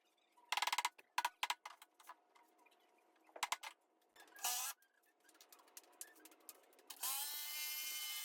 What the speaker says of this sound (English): And I used my impact driver for this.